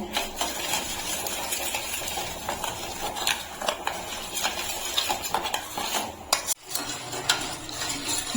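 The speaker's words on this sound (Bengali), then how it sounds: "এখন আমি সবকিছু ভালো করে একসঙ্গে মিশিয়ে নেব।" Sugar, cocoa powder and cornflour being mixed together in a bowl for a homemade chocolate cake, with a spoon or whisk clinking and scraping against the bowl in a steady, busy rhythm, with no talking.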